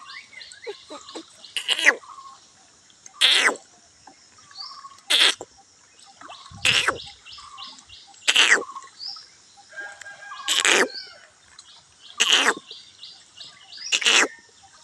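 A human voice imitating a bird call, repeating sharp, high chirping bursts about every one and a half to two seconds, each followed by quiet gaps and faint warbling.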